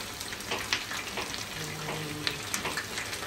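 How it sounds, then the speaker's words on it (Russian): Potatoes fry in a pan in a home kitchen, giving a steady, fairly quiet sizzle with small crackles and pops scattered throughout and no talking over it. "Картошечка жарится."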